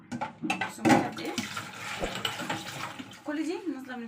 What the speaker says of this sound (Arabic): كل دي نازله من الحنفيه